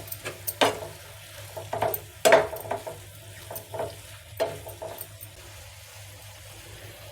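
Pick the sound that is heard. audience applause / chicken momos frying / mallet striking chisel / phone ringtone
chicken momos frying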